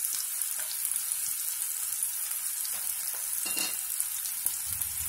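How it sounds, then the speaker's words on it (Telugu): Finely chopped onions fry in a pan with a steady, fairly quiet sizzle and hiss that carries on without pause, plus a few faint scrapes and taps from stirring, and no voices. "ఆనియన్ వేయించుకుందాం,"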